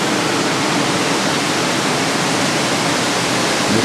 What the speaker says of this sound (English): this is where the water tumbles out of probably another cavern system